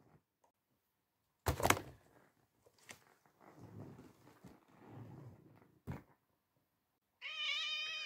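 A house cat meows several times indoors, including a loud drawn-out cry near the end, with brief bumps and a low muffled voice in between.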